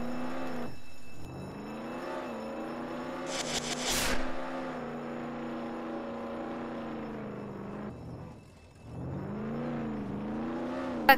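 A car in the Roblox game Jailbreak drives past with a whining engine that rises and falls in pitch several times, with a brief harsh burst in the middle and a fade before it revs up again.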